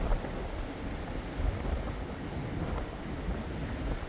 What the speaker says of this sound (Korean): 이렇게까지 바람 부는 건 처음이다.